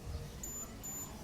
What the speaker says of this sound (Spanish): El pitido me dice que el suelo ya está inundado